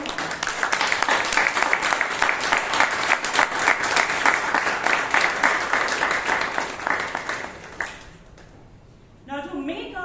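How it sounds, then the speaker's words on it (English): A Toastmasters meeting audience claps in sustained, dense applause for about eight seconds. The clapping then stops abruptly and a voice starts speaking. "So can we have a big round of applause for everyone?"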